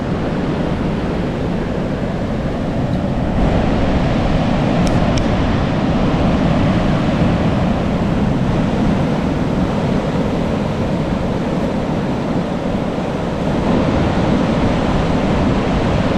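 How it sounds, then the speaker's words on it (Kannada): Loud, continuous roar of sea waves crashing on rocks nearby at Dhareshwar beach, a dense wash of surf with no voices. "ನೋಡಿ ಅಲೆಗಳ ಅಬ್ಬರ ಹೇಗಿರುತ್ತಂತ"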